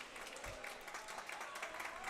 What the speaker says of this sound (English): he gets a round of applause from the crowd for that one